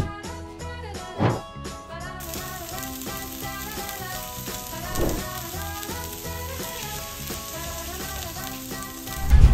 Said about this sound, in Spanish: puedes prender tu estufa y poner a precalentar una plancha en donde las vamos a poner a asar